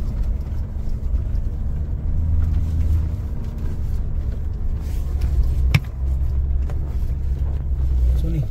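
A Mahindra Thar 4x4 climbing a steep mountain road on the Leh Manali Highway near the Gata Loops, giving a steady, close engine rumble that labours continuously. Faint voices sit beneath it.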